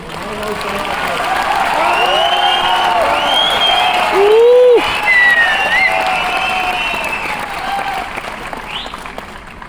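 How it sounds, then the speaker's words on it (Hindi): An audience at a Mi Lifestyle business program in Nagpur bursts into sustained applause and cheering, loud and close, swelling in the middle and tapering slightly toward the end. "अगर इसी बात के लिए इतनी तालियां हैं"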